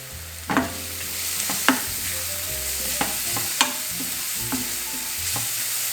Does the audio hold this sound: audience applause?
no